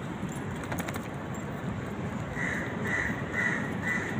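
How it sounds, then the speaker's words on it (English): Birds calling beside a river on a morning walk: a few crow-like caws repeat in the second half, fairly distant, over a steady outdoor background rush. "Daming birds dito."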